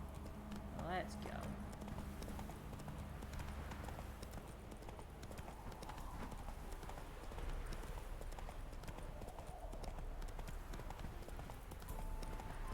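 Roach, the horse in The Witcher 3, gallops with a steady rhythmic clip-clop of hooves over continuous background sound, while a voice talks over the riding.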